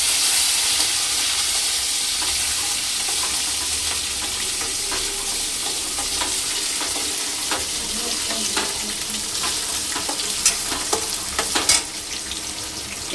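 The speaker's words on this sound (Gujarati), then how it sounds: "અને ટમેટાનો વઘાર કરી નાખી" Tomato tempering with cumin and curry leaves sizzles and crackles steadily in a hot pan, a dense continuous fry with scattered sharp pops and occasional stirring scrapes, close and loud with no talking.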